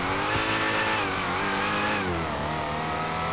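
A Nissan GT-R R35 in GTA 5 revs hard with a steady, loud engine note that rises, dips and climbs again, harmonics sweeping throughout, with no voices over it.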